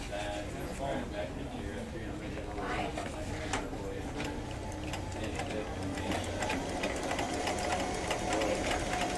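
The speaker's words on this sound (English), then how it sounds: "The zigzag sewing machine really makes it possible to do quite a few things." Zigzag sewing machine stitching a seam, a rapid steady mechanical ticking and whirring that runs throughout, close by.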